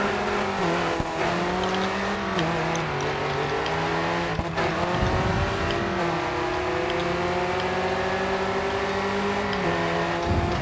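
Race car engines in the racing game Grid 2 drone and rev without a break, with pitch climbing and dropping through gear changes and tyre squeal, loud and close the whole time.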